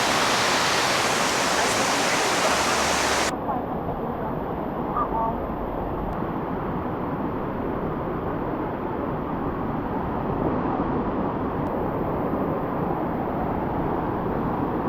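A Jamaican waterfall roars as a dense, continuous rush of falling water, loud and close throughout, with the sound dulling slightly after a few seconds as if the listening position shifts near the pools at the base of the falls.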